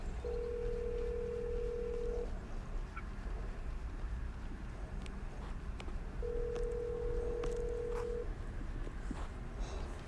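Telephone ringback tone heard on a call, two long steady rings several seconds apart over a low background hiss, with faint clicks in between and no talk.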